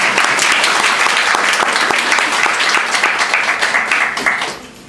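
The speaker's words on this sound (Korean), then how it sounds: "박수 한 번만 쳐주세요." A seminar audience claps together at a marketing seminar, loud and close, a full burst of dense applause that runs steadily before tapering off at the end.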